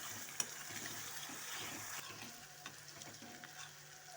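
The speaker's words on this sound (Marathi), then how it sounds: "आता हे छोटे 2 टमाटे घेतलेत बारीक चिरून, ते घालून घेते. यातला पाण्याचा अंश पूर्ण कमी होस्तोवर चांगला परतायचं याला." Finely chopped small tomatoes sauté with onion in a hot pan, giving a steady, soft sizzle and light crackle with a few stirring clinks, quiet and close, with no talking.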